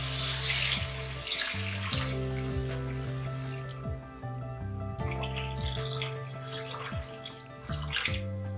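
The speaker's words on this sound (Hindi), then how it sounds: "हम इसमें पानी डाल रहे हैं।" Water pours steadily into a pressure cooker of fried meat with a gurgling, splashing flow that briefly eases off midway and then resumes, over a low hum.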